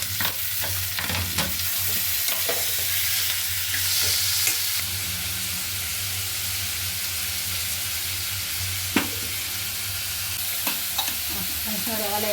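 Tomato goes into a hot pan in a home kitchen and fries with a steady, close sizzle, punctuated by stirring clinks and scrapes of the spoon.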